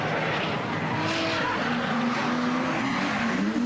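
A Toyota GT86 drifts around a track at a drift show at the Nürburgring, its engine roaring with a long rising tire squeal, steady and loud throughout.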